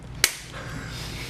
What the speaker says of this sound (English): Chris has got the clap.